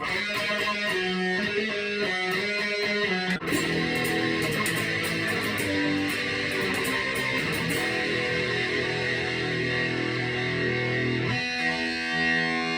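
A guitar through a Boss DS-2 Turbo Distortion pedal in turbo mode, distortion and tone on full, plays sustained, buzzing chords and notes, loud and saturated, with a thick fuzzy tone throughout.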